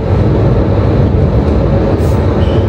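Inside a moving train in France on the way home after a snowy trip, a loud continuous low rumble of the carriage fills the whole stretch, steady with no talk.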